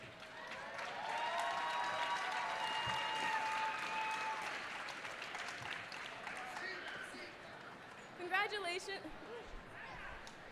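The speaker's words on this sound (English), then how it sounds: "Let's give it up for our 2 teams." An audience at a high school Scholar Bowl gives a sustained round of applause for the two competing teams, dense clapping with a few whoops, then fading as chatter and a voice rise.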